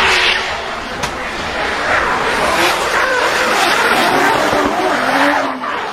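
A toy race car sound effect plays loudly: a roaring engine with squealing, skidding tires that runs continuously for several seconds, with no voices over it.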